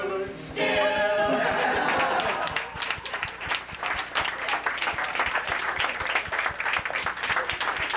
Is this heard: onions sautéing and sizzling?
no